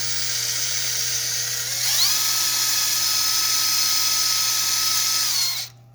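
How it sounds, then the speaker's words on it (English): A wire wheel on a power tool grinds rust off a 2015 Chevy Impala front brake caliper bracket, a steady high whine that rises in pitch partway through and then cuts off, loud and close with no talk. "So with my grind wheel, I went ahead and ground down all the rust off the brake caliper bracket"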